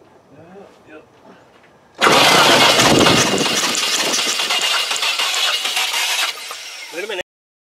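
A Range Rover engine with spark plug trouble cranks and catches, then roars loudly for about five seconds before cutting off abruptly. Faint activity is heard just before it starts.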